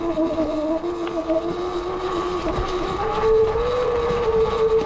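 An E Ride Pro SS electric motorbike whines under regenerative braking while riding, a steady tonal whine that slowly shifts pitch over loud rushing wind and road noise.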